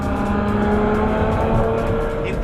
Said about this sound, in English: The first thing you notice on the road is that incredible exhaust sound.